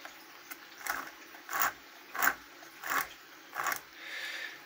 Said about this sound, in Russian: Вот, то есть на тормозе даже пила проворачивается.